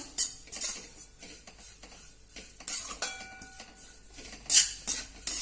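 A spoon stirs a dry spice mixture with amchur powder in a pan for ridge-gourd peel chutney, giving light intermittent scrapes and clinks of metal against the pan, with a couple of sharper knocks, fairly close.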